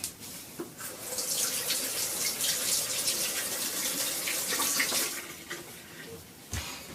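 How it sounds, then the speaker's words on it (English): Cold tap water running over an onion half at a kitchen sink, a steady close gushing stream lasting several seconds, starting and stopping with clicks of the faucet. "I'll go run it underneath cold water for 30 seconds"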